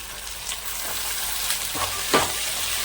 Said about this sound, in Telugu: ఇది వేగటంతో ఇందులో మనం గోచిక్కుడు ముక్కలు వేసేసుకుందాం